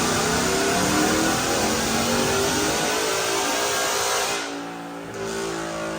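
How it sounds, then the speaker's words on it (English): A 2024 Ford F-150 with a Whipple Stage 2 supercharger and long-tube headers roars through a dyno pull, a loud sustained engine howl that climbs steadily before dropping off near the end. "But now check out this dyno pull."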